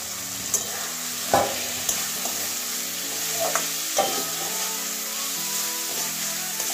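Washed soybean chunks being stir-fried in a pan with turmeric and sugar, giving a steady close sizzle with a few scraping spatula strokes across it.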